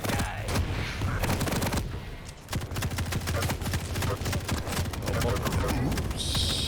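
A heavy machine gun in a Quake duel match rattles off dense, rapid bursts up close, nearly continuous with a brief lull midway, while a commentator's voice runs faintly underneath.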